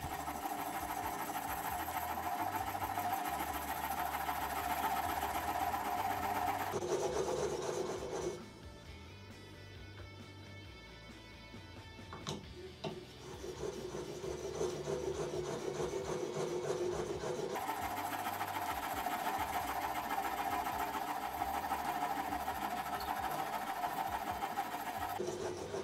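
A chisel is rubbed back and forth with lateral strokes across a sharpening stone, giving a steady, close scraping grind that pauses briefly in the middle before resuming. No one speaks.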